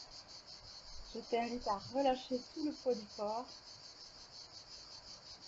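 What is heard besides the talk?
cicadas singing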